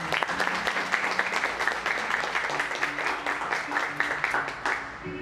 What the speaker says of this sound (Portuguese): Então dá uma salva de palmas para essa palavra.